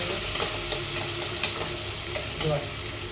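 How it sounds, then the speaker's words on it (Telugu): Onions and green chillies frying in a pan for a mixed vegetable and meat curry: a steady, close sizzle with soft stirring scrapes and one brief louder clink partway through. "ఉల్లిపాయలు పచ్చిమిర్చి రెండు అయితే వేసేస్తున్నా."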